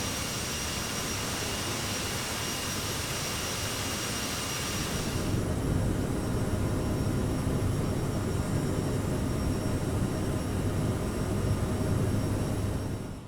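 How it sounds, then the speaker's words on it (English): An Aerosoft CRJ regional jet climbs in Microsoft Flight Simulator 2020, its loud steady turbine roar changing tone partway through and then holding an even drone, with no talking. "I'm going to let the aircraft climb a little bit more in speed before I pull the throttles out of climb"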